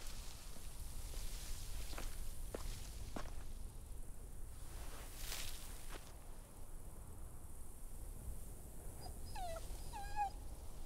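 A dog whimpers with a few short high yips toward the end, inside the video game The Walking Dead, over a steady background hiss with faint scuffing footsteps and a brief whoosh.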